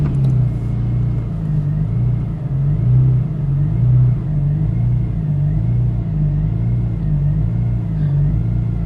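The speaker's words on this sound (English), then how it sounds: "we have the car on the dyno, and we are about to do some pulls" Car engine on a chassis dyno with a turbo or supercharger kit, droning loudly and steadily with rhythmic rising and falling surges in pitch, close and continuous without talk.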